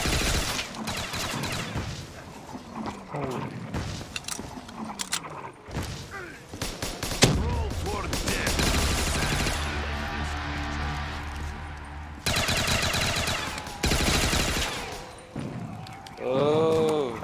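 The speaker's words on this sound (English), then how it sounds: "I'm assuming we just have to keep shooting cannons at it then." Repeated cannon fire in a pirate video game, several heavy booms and thuds scattered across the clip amid busy game noise, with people talking over the action.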